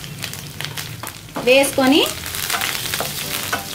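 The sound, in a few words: sliced onions and curry leaves frying in tempering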